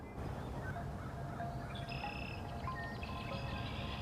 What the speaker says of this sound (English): The red-winged blackbird is one of the most abundant birds in North America.